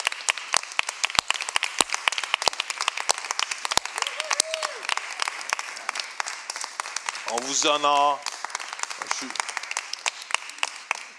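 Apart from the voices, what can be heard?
congregation applauding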